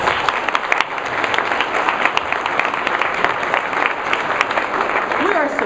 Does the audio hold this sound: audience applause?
yes